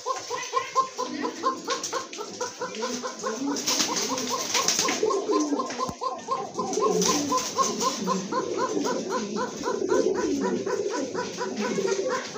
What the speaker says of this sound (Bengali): ভাই ভাই কবুতর ডাকটা কোন দেখাইলাম নাকি?